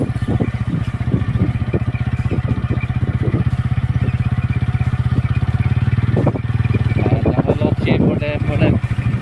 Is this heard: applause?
no